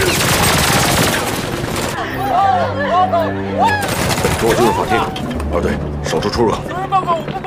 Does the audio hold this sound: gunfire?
yes